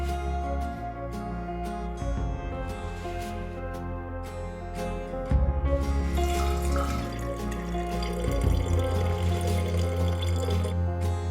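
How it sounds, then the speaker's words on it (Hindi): Water clouded with fine clay particles is poured from one pot into another, a sustained trickling and splashing that grows fuller toward the end, with a faint tonal hum behind it. "जल्दी से ढक्कन हटाकर पानी को तैरते हुए बारीक कणों के साथ दूसरे बर्तन में डालना है"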